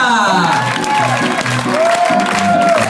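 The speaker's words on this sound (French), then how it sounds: "on applaudit très fort notre animateur sportif polyvalent, Mr. Hamza." Audience at a club resort team presentation in Djerba applauding steadily and loudly, with music playing and an announcer's voice over it.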